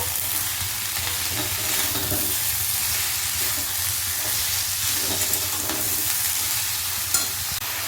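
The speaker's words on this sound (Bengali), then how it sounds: "খুব ভালো করে বাঁধাকপিটা মিশিয়ে নিয়েছি" Cabbage stirred with a fish head in a frying pan, a continuous loud sizzle and hiss of oil with soft scraping stir strokes throughout, no voices.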